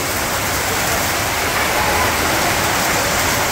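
Rain begins falling and quickly settles into a loud, continuous hiss of drops striking surfaces, even and unbroken throughout.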